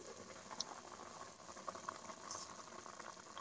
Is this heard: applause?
no